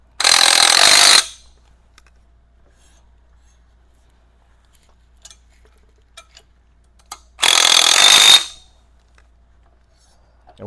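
An impact wrench tightens axle nuts on a 1987 Honda TRX250R during a TRX450R axle conversion, two loud, close bursts of about a second each separated by quiet, with small clicks in between.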